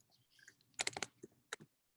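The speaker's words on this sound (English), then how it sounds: "And now I start typing." Quiet typing on a computer keyboard during a math lab session, with a flurry of quick clicks then a few scattered keystrokes, soft and close, no talking.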